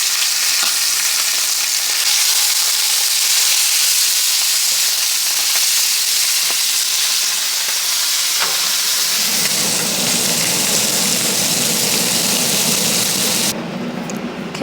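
A beef roast sears in a hot pan, a loud, close, continuous sizzle and crackle of frying that runs steadily for about fifteen seconds, with a shift in tone near the end and no talking.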